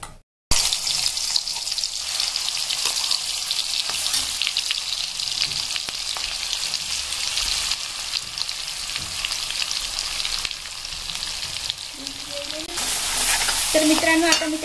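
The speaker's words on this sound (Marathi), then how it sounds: "आता मसाला आपल्याला छान फ्राय होऊ द्यायचा आहे" Masala paste for egg curry fries in hot oil with a bay leaf, a loud continuous sizzle with scraping stirs throughout and a few brief clinks near the end.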